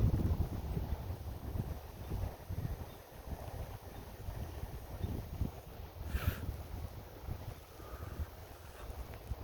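Wind gusts outdoors and buffets the microphone with low, uneven rumbling, moderately loud and steady, with no voices.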